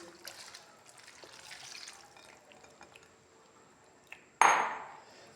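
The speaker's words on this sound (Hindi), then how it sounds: "अब इसके अंदर पानी डालूँगी इमली का, ऐसे करके सारी तरफ।" Tamarind water poured over aloo chana chaat, a sudden loud liquid splash and pour near the end after a stretch of faint kitchen clinks and drips.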